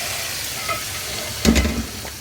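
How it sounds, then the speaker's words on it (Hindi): Steady hot-oil sizzle of green chillies frying as a tempering, with a brief louder crackle and spatter burst midway, close by and without talk. "और ये हरी मिर्चों का तड़का।"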